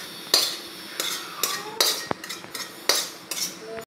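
Boiled banana flower gets worked over in a bowl with clattering, clinking knocks against the vessel, about eight distinct sharp hits spaced irregularly, close and fairly loud with a soft wet mash between them.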